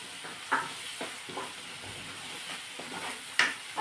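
Red chilli powder and spices sizzling in hot tempering oil for pav bhaji, with a soft frying hiss broken by repeated stirring scrapes and a couple of sharper clinks of a spoon against the pan.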